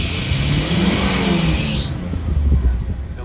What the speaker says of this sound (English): So let's see if we can spin the turbos at all.